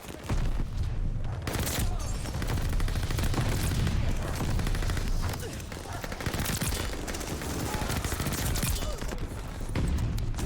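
Rapid, sustained Marco-5 light machine gun fire in the shooter Call of Duty Vanguard rattles almost nonstop and loud for about ten seconds, with brief dips in intensity and a busy battle din underneath.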